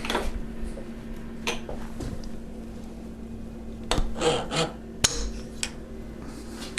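A small end mill cuts a 6 mm wide, 0.5 mm deep slot into a piece of carbide, giving a faint, steady grinding rasp over a low motor hum, with a few louder scraping bursts and no talk.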